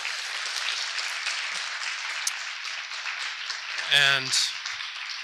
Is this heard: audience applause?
yes